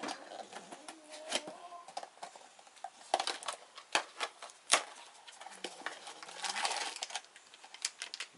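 Small Japanese figurine packet being opened by hand, with irregular crinkling plastic rustles and sharp tearing clicks close to the mic, no voices.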